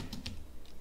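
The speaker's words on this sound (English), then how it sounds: "you guys can type exactly what I'm typing" A few soft clicks of typing on a computer keyboard as a command for a MySQL path setup is entered, quiet and close, over a steady hiss.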